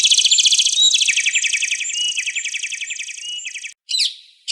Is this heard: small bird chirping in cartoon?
yes